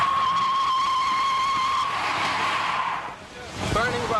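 A pickup truck's tires spin and squeal as it burns rubber on a street while pulling a chained tree after a hurricane, a sustained high screech that falls away and then returns, with a voice talking over it.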